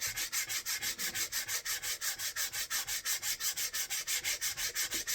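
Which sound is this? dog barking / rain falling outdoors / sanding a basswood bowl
sanding a basswood bowl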